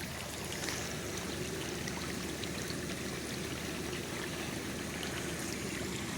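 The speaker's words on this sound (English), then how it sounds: "And all that water just going right down the drain." Floodwater on city streets in Topeka, Kansas pours steadily down a street drain, a loud, continuous rushing and gurgling that stays constant throughout with no voices.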